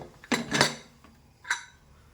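A pressure cooker lid is lifted off after cooking dal, giving a few sharp metallic clanks and clinks close by, with a quiet pause between them.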